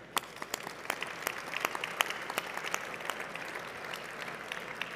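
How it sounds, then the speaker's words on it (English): A crowd at an awards dinner applauds its event partners, steady scattered clapping from a moderately sized audience with individual sharp claps standing out, heard at a medium distance. "please join me in a strong round of applause to thank all of our partners tonight"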